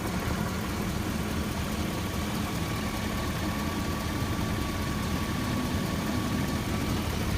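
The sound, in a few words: 2004 Chevy Silverado engine idling, quiet exhaust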